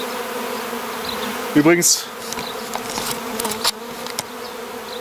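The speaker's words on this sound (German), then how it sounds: "Sind das hier wirklich ganz liebe Bienen" Honey bees buzz loudly around a colony being relocated out of a tree trunk, a steady insect drone with one close, louder bee passing by; a person speaks briefly.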